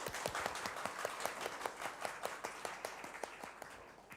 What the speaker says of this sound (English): please give Kun Bill a round of applause